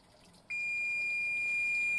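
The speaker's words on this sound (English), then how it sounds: "now our timer has gone off" A kitchen timer's high, steady electronic beep sounds after a short quiet moment and then holds continuously, shrill and close.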